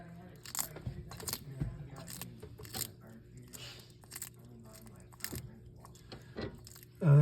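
A pet dragon crunches and bites into a tough bug, with sharp close crackling bursts between quieter pauses and a louder thump right at the end.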